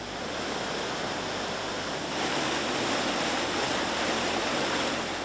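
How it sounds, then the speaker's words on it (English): Water from a mill pond rushes steadily through a gate toward the turbines of an 1890s grain mill, a dense continuous roar that swells slightly louder partway through. "By using this gate here, we can get the water down into the turbines and get the mill turned on."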